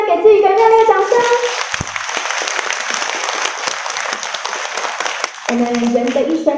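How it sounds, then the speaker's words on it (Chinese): A large crowd at a packed afternoon sharing event claps warmly, steady dense applause in the middle, with a voice speaking at the start and again near the end. "请大家给自己一个热烈掌声"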